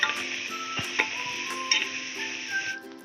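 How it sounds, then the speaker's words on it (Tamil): Chopped onions sauté in hot oil with mustard seeds for a mutton curry, a steady sizzle broken by several clinks and scrapes of a spoon stirring the pot. "பொடியாக கட் பண்ணி வச்சுருக்க 3 பெரிய வெங்காயத்தை சேர்த்துட்டு நல்லா வதக்கி விட்டுக்குங்க"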